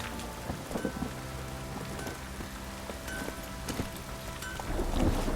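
Steady heavy rain pours across the open world of The Witcher 3, a dense continuous hiss with a few faint low rumbles and soft hoofbeat-like knocks, swelling slightly louder near the end, with no voices.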